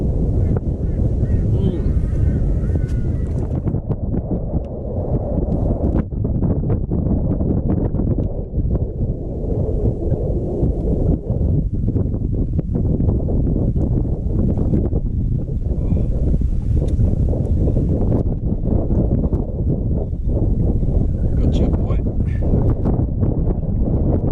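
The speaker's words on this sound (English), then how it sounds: "Wind is pushing me." Wind buffets a fishing boat out on Lake Cania, a steady loud rumble of gusts across the microphone with water slapping underneath, continuous for the whole stretch and no clear talk over it.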